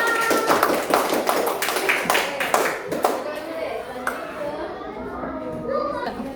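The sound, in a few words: children clapping in class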